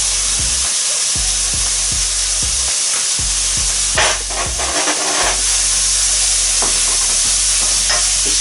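Shiitake mushrooms sizzle and fry in sesame seed oil over lowered heat, a steady close hiss with repeated scraping stirs and a few louder spitting bursts, no voices.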